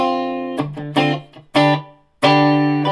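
Distorted electric guitar chords strummed through an Orange TH30 amp with no pedals, several ringing hits with brief gaps, sustaining with a roomy reverb tail.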